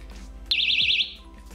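A cheap electronic buzzer for a homemade laser alarm emits a single shrill warbling tone for about half a second, loud and close, then cuts off.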